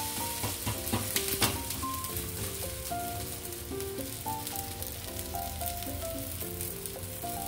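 Carrot dosa frying in oil on a pan, a continuous close sizzle and crackle alongside steady background music, with no talking.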